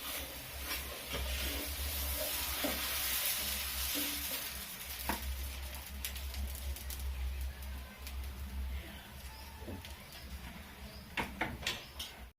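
Onion pesarattu dosa batter cooking on a hot pan, a faint steady sizzle with scattered scrapes and clicks of a spatula, fairly quiet and without talk.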